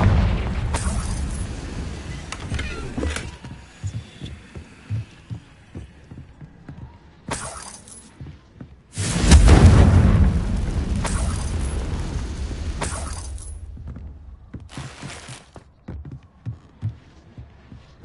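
Confringo blast spells go off in Hogwarts Legacy, loud booming explosions with bursts of crackle, a heavy blast near the middle followed by rumbling decay and smaller flares, alone.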